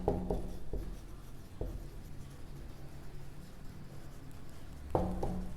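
Equations are written on a board in a classroom math lesson, giving faint scratchy strokes with a few soft taps. The writing sounds muffled and low in a quiet room.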